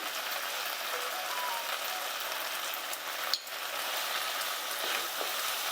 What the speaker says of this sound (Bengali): সব মশলাগুলো এবার খুব ভালো করে কষিয়ে নেব